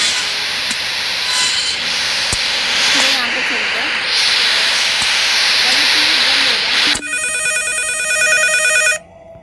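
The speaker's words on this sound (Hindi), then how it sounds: "कौन है भाई, फोन क्यों कर रहा है?" Telephone rings inside the horror video game Endless Nightmare, a steady electronic ringing over dense hissy ambience, ending in a sharp, clearly pulsed ring pattern for the final two seconds before cutting off.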